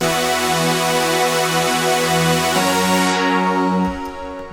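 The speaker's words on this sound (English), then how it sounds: "It was the ES2 synthesizer that's built into Logic." Logic's built-in ES2 software synthesizer plays a sustained, harmonically rich chord progression, loud and bright, with the top end dimming toward the end as it fades out.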